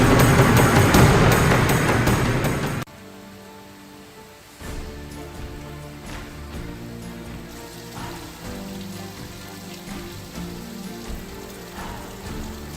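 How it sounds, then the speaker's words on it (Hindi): Heavy rain pouring in Balrampur, a dense steady hiss that starts loud, drops briefly, then continues as a steady downpour with scattered drops. "यहाँ एक बार फिर से झमाझम बारिश का दौर देखने को मिल रहा है"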